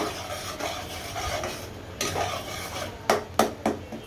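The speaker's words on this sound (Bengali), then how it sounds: "পেঁয়াজ আদা রসুন বাটা দিয়ে আমি আবার মশলাটা ভালো মতো কষিয়ে নিচ্ছি।" Onion, ginger and garlic paste masala frying in a pan while being stirred, soft sizzling under repeated scrapes, then several sharp utensil clanks against the pan near the end.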